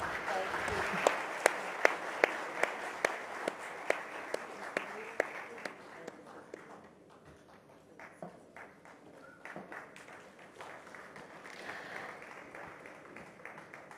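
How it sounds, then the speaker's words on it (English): An audience at the India Today Conclave 2013 in Delhi applauds, a quiet wash of clapping with sharp individual claps up front that fades and thins over about fourteen seconds. "I think you could be louder with the applause."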